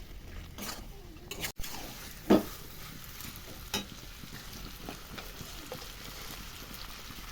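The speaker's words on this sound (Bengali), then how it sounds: "মটরশুঁটি দিয়ে চিকেন কষা হবে, সঙ্গে চিকেনও ঢেলে দেবো, দিয়ে একসঙ্গে কষবো মশলার সাথে" Chicken and green peas frying together with spices, a soft steady sizzle with occasional scrapes and knocks of a spoon in the pan, close by, one louder clatter near the start.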